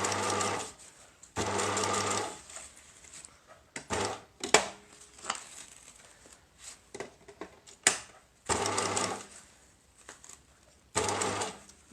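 A sewing machine stitches a bicycle frame bag in several runs of steady mechanical whirring, broken by pauses full of clicks, fabric handling and small knocks, heard up close.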